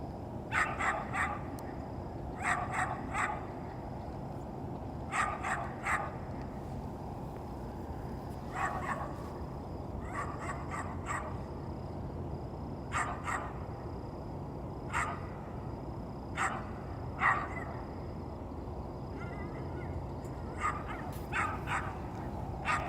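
A dog in a Minnesota backyard by a pond barks and whimpers in repeated short bursts, with pauses between clusters, heard at moderate distance over steady outdoor background noise.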